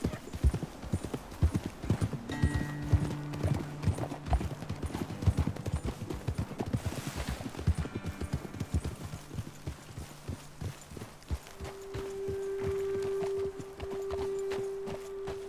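Horse hooves clop along in a steady walking rhythm in the video game Red Dead Redemption 2, close and clear, with creaks of tack and a long low tone late in the sequence.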